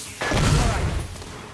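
A smoke grenade going off in a video game, a sudden loud hissing burst with a deep thump that swells for about a second, then fades.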